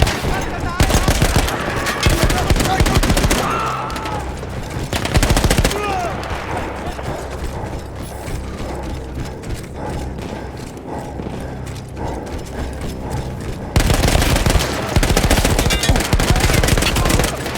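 Machine gun fire in the World War I shooter Battlefield 1, a mounted gun taken from Austro-Hungarian troops, with loud rapid bursts at the start, near five seconds and from fourteen seconds, and quieter battle noise and shots in between.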